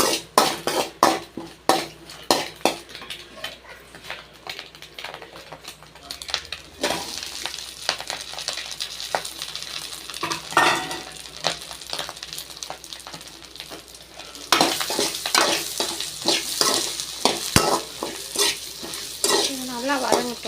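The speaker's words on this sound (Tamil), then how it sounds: "இப்போ அதே எண்ணெயிலே ஸ்பைசஸ்லாம் ஆட் பண்ணிடலாம்." Spices frying and sizzling in hot oil in a pan while a spoon stirs them, with steady scraping and clinking of utensil against the pot throughout, close and moderately loud, no talking.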